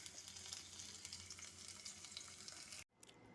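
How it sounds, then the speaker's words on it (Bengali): Small pieces of boneless chicken fry in oil with a quiet, continuous crackling sizzle that cuts off abruptly near the end. "এখন আমি চিকেনটা ভেজে নেব। বোনলেস চিকেনটাকে ছোট ছোট টুকরো করে নিয়ে অল্প অল্প করে ভেজে নেব।"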